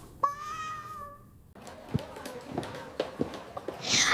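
One drawn-out meow from a nearby cat, followed by soft scattered taps and footsteps with light background noise.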